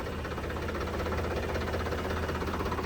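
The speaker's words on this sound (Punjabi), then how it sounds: "ਮੁੰਡੇ ਨੇ ਕਰਤਾ ਟਰੈਕਟਰ ਸਟਾਰਟ" A new 2024-model Swaraj tractor engine idles with a steady, close, continuous low rumble and a faint knocking vibration, with no talk over it.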